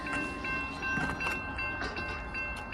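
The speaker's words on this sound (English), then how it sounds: "It's an Amtrak" An Amtrak passenger train passes at a rail crossing in Maine, a faint, steady rumble and rattle of rolling cars heard from some distance with a low, even wash of sound throughout.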